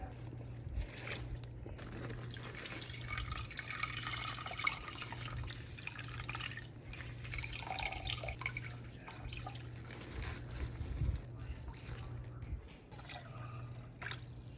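Vegetable broth dripping and trickling steadily from a squeezed nut bag during straining, a continuous wet patter with a low steady hum underneath, fairly close and soft, with no talking.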